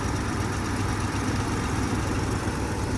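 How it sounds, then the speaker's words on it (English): A 1961 Lincoln Continental hardtop's engine idles steadily and close by, a continuous low rumble with a dense, even texture that holds without a break. "the engine is running, so I want to get closer, but it sounds just amazing"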